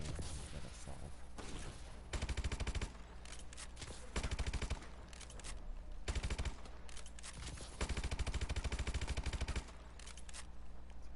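Bursts of automatic assault rifle fire in Call of Duty: Advanced Warfare, several sustained rapid volleys of sharp shots separated by brief pauses, loud and close.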